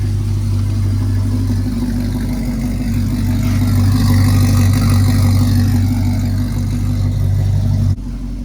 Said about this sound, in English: Sounds good. That new exhaust, man.